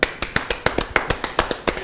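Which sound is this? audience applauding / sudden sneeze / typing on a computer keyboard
audience applauding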